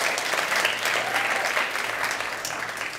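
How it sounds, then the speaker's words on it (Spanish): Studio audience at a Spanish-language game show breaks into dense, continuous applause, loud and steady throughout with no speech over it. "Un aplauso, por favor."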